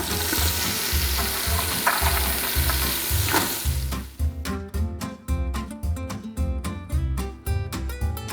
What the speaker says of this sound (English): Let's get this onion and garlic in there.